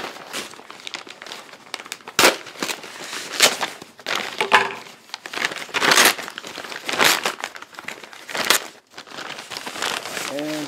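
Crinkly plastic packaging holding a t-shirt is torn open and handled, loud close crackling and rustling in irregular bursts, with a person talking.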